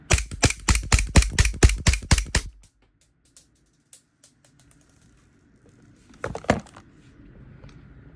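Umarex VFC Glock 17 Gen 5 MOS airsoft pistol fired in a rapid string of about a dozen sharp, loud close snaps, followed by quiet, a few faint ticks and a later brief clatter.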